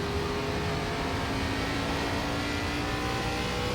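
Race car engine in the iRacing sim, an ARCA car lapping the Bristol oval, drones at a steady high pitch with a faint rising whine, loud and continuous for a few seconds without talk.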